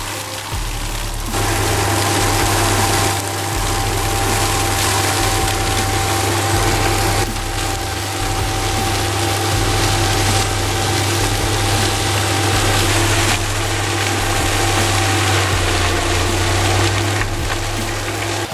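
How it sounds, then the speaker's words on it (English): Six-cylinder, 800-horsepower engine of a Raptor RT 800 tracked plow runs steadily and loudly for the whole stretch, a constant low drone with a faint whine above it and no voices. "Equipped with a powerful 6-cylinder engine delivering up to 800 horsepower, the machine effortlessly plows through all types of soil."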